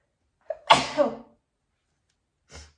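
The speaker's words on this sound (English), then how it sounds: "sorry, I had to sneeze" A single loud sneeze up close, with a short intake of breath before it and a faint sniff or voice sound moments later.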